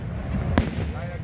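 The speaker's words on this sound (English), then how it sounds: "we're here in Niagara Falls watching the fireworks here" Fireworks over Niagara Falls on a summer night, one sharp burst crackling loudly amid steady crowd noise and nearby chatter.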